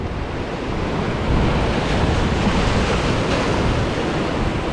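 Energetic ocean waves at Prachuap Khiri Khan beach make a continuous loud surf roar with wind buffeting the microphone, steady throughout with no voices.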